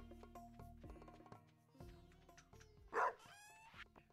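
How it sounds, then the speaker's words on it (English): A dog barks in the farming video game Stardew Valley, a single sharp bark followed by a short whining yip, heard over steady game music. "Yeah, yeah, doggo. I hear you."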